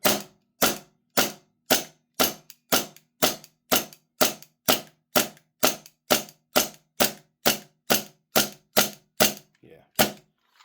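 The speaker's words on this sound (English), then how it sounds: "So we're going to dry fire it here." EMG Colt Defender airsoft gas blowback pistol dry firing, a long run of about twenty sharp metallic snaps at a steady quick rhythm, close and crisp, the last few softer and trailing off.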